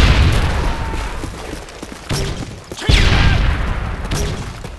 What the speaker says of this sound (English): RPG!